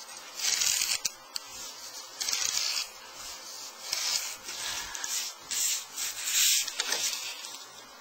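A blade drawn along a straight edge to slice wood veneer into even strips, coming as repeated rasping strokes of about a second each with brief pauses between, close and fairly loud, with no speech.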